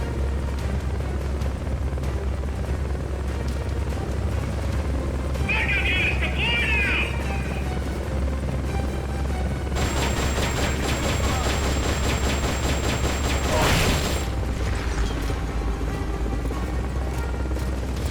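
Helicopter in the video game Metal Gear Solid: Peace Walker, a steady rotor drone under gunfire and blasts, with a loud explosion near the end and a person talking over it throughout.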